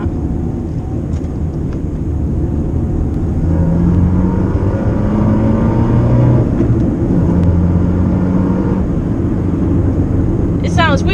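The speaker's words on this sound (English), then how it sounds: "It's sort of burbling a bit when you take it off acceleration." Heard from inside a Fiat Panda fitted with an Abarth Monza exhaust, a loud, steady low engine drone fills the cabin while a person talks over it, the exhaust burbling as the car comes off acceleration.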